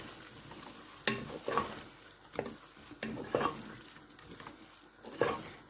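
Keema being stirred with ground dried coriander in a pan, a spoon scraping the pan in distinct, irregular strokes over a faint background sizzle, close and with no talking.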